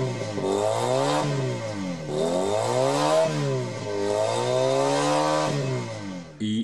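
A Junak M14 125 motorcycle engine revs up and down in repeated swells, loud and close, each throttle blip rising then falling back to a rumbling idle.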